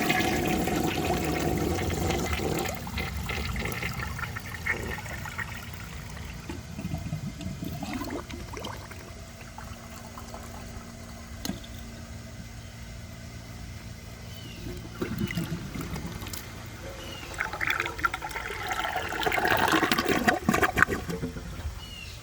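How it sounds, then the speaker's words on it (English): A 1984 American Standard Cadet toilet flushes with a sustained rushing, gurgling drain, then the tank refills with a steady hiss and trickle of running water, loud and close throughout. "I'm going to wait for the tank to refill and give it another flush"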